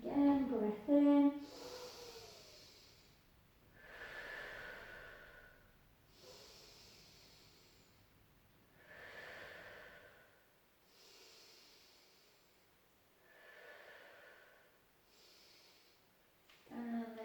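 Slow, deep breathing during Sunday morning stretches: about six long, airy breaths drawn evenly and close to the microphone, with a voice heard briefly at the start and end.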